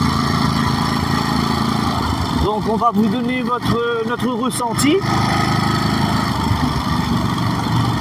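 A Ducati Monster SP 950 motorcycle idles nearby at Belle-Pierre in the heights of Saint-Denis, a steady low engine rumble running throughout while someone speaks over it for a few seconds.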